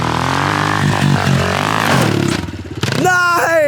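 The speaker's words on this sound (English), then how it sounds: "Mo Cabry coming in on the number 12 bike." A pit bike engine revs loudly and close as it rides in toward a freestyle ramp, a buzzing drone with a throttle blip and rising pitch at the end.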